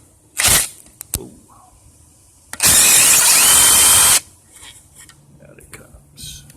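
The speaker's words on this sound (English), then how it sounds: "So, 8mm socket on an impact driver." An impact driver with an 8mm socket spins alternator bolts out of an old 2000 Lincoln Navigator alternator. One short burst is followed by a louder sustained rattle of about one and a half seconds, with faint handling clatter around it.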